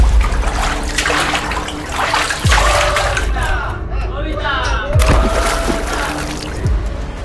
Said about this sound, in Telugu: ఇవి జలపాతం నుంచి వచ్చిన నీరు.